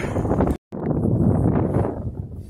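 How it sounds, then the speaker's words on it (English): Loud, blustery wind buffeting a microphone, a continuous low rumbling roar with one brief dropout near the start. "there's only so much wind noise we can wait for"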